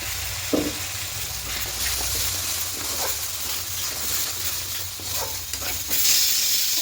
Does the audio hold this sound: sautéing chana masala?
yes